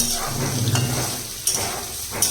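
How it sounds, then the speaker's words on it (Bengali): Potatoes frying in a pan, a close steady sizzle with short stirring scrapes and a couple of brighter hissing bursts, no voices. "এখানটায় আমি ভাজি আলু"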